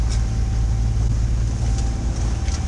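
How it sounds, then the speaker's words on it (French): A sailboat motoring under engine power at about four knots into a headwind, passing between large ships; a steady low engine drone with wind buffeting the microphone, continuous and fairly loud throughout. "Nous là, ben, on est au moteur"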